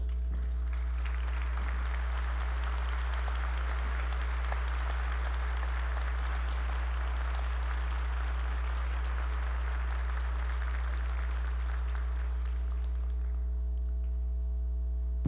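An audience at the XIV FIA 2015 opening ceremony in Vivo Rio applauds the federal councillors. The applause is sustained and fairly distant, runs over a steady electrical hum, and fades out near the end.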